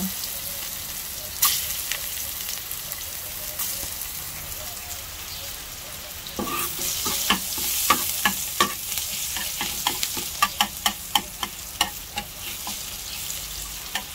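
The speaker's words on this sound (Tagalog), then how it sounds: "Magsasangag po tayo from the same pan." Leftover rice is stir-fried in a pan for Filipino garlic fried rice, in the same pan used earlier for dried fish. A soft sizzle builds into brisk frying, and the spatula scrapes and clacks in quick bursts against the metal.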